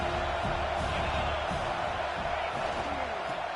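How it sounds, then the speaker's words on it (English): A home stadium crowd roars in a college football video game, USC against Notre Dame, a dense sustained wash of cheering with a commentator's voice running over it. "how nice is it to have the home crowd going absolutely bananas?"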